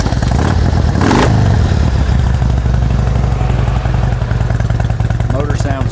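A Harley-Davidson Ultra Classic FLHTCU motorcycle with about 52,000 miles runs steadily, its loud, close engine idling with a deep rumble and a brief rev near the start.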